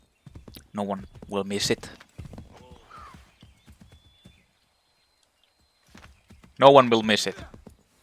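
Horse hooves clop softly in Assassin's Creed III, light rhythmic steps between and beneath lines of spoken dialogue.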